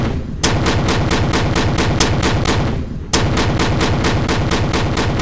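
A custom projectile launcher gun in a video game fires in rapid, evenly spaced loud bursts, about eleven shots, a brief pause, then another fast run of shots; no speech.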